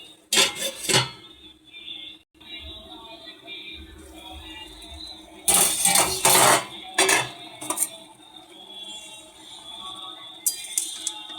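A lid clatters onto a pan of spicy khoyra fish curry, with loud metallic clanks and scrapes in two clusters and a final clink, over a low steady background hum.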